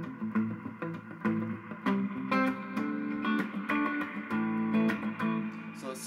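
An electric guitar plays through a Vox MiniGo50 amp with reverb and delay effects, a close, steady run of plucked notes and chords whose trails ring and overlap.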